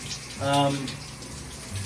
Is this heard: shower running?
yes